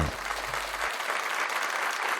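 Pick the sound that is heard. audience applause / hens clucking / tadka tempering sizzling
audience applause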